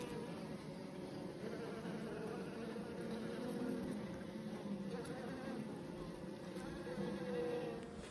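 Honey bees from a sick hive with European foulbrood drone in a dense, steady buzz close by, a continuous swarm hum with no pauses or voices.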